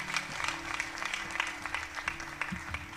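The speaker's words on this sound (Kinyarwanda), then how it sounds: "Twomere Imana amashyi cyane kubw'ano jambo" A church congregation at PEFA Church Kinyinya claps steadily at moderate volume under a sustained low tone, with faint crowd murmur in the background.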